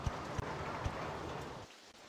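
Steady hiss of rain falling in the RollerCoaster Tycoon PC game, a dense even wash with a few low thumps, then cutting off abruptly near the end.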